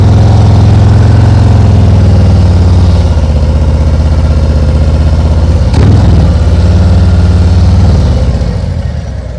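A motorcycle engine idles steadily and loud and close, shifting in pitch as the bike eases away from a stop, with a brief bump partway through before the sound tapers slightly at the end.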